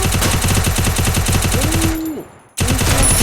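Rapid, continuous machine-gun bursts from a shooting video game rattle loudly and closely, pause briefly after a rising whine, then resume just as fast.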